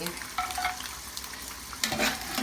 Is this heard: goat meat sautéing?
yes